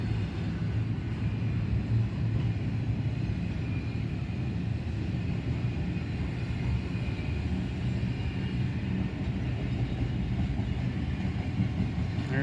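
Intermodal freight train carrying Prime, FedEx Ground and other trailers rolls past at Oak Harbor, a steady low rumble heard from a short distance, continuous and without talking.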